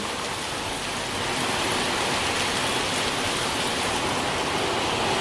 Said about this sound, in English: This is the first time that I am in our mud house when it's raining.